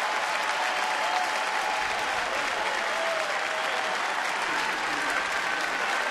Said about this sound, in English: McDonald getting a standing ovation from the crowd.